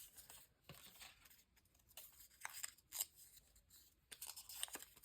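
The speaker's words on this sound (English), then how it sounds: "So let's just cut some of that off." Scissors snipping paper for a vacation journal, a few quiet, crisp cuts spaced out over several seconds, with light rustling of paper between them.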